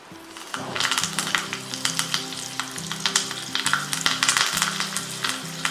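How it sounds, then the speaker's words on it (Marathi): Mustard seeds and fresh curry leaves crackle and sizzle in hot oil, a dense spattering of sharp pops over a steady frying hiss, close by. "त्यात आपण मोहरी घालणार आहोत एक स्पून हिंग चिमूटभर आणि हा फ्रेश कढीपत्ता घेतला"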